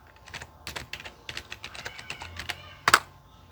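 Keys clack on a computer keyboard as a Windows command-line command is typed, a quick irregular run of close, crisp strokes ending in one louder hit, with no talking.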